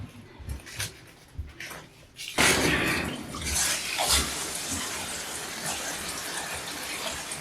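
After a quiet start, a tap suddenly opens and water gushes steadily into a bathtub used for watering houseplants, a loud, continuous rushing that fills the rest of the stretch with faint indoor sounds.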